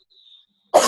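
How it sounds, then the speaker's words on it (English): A woman coughs once, a sharp, close, harsh burst that comes right after a faint high tone, with no talking. "You're coughing and sick"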